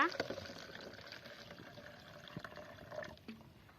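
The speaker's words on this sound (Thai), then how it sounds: "อันดับแรกเราก็เทน้ำลงไปนะคะ" A steady trickle of water pours into a glass for a homemade lava lamp experiment, continuous and fairly quiet, with faint background noise.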